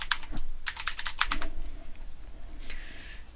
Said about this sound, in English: Let me put in my password.